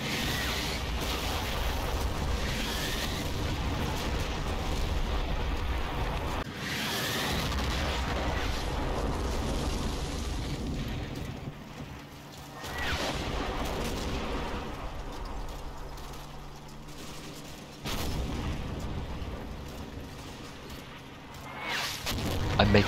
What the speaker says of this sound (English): The German artillery is particularly effective today.